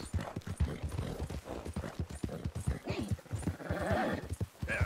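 Horse hooves gallop in a rapid clip-clop rhythm through brush in the video game Red Dead Redemption 2, with a whinny breaking in and steady hoofbeats filling the whole stretch at close range.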